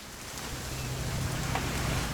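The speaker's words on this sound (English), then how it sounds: "It's gonna rain the whole weekend" Steady rain hisses in the video game What Remains of Edith Finch, an even wash of drops over a low rumbling hum that grows slightly louder toward the end.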